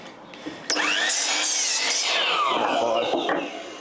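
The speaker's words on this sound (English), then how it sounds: "running over to the miter saw cutting stuff all the time" A miter saw cutting timber framing on an Australian house build: a sharp click, then a loud close whine as the blade spins up and bites through the wood, holding steady for a few seconds before winding down.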